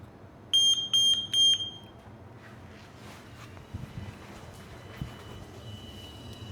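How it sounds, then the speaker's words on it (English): Three loud, shrill electronic beeps in quick succession from a water leak sensor alarm, each a short burst of rapid pulses, followed by quieter indoor rustling and faint handling noises. "now when I put this in, it's gonna beep"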